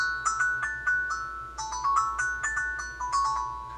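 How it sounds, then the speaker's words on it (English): Bright, bell-like metallic notes struck one at a time in a steady, melodic pattern, each ringing briefly before the next. "This next one I have here is a little tongue drum"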